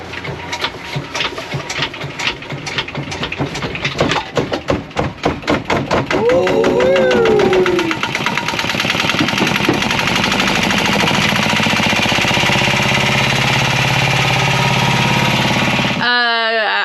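A boat engine chugs in rapid pulses during a flush, then settles into a steady, loud running drone that stops abruptly near the end.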